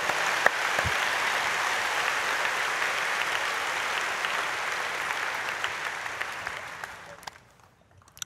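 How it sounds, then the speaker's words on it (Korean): Church congregation, including high school students, applauds during a Saturday dawn service, a long sustained round of clapping that holds steady for several seconds, then tapers off and stops near the end. "박수해 주시길 바랍니다"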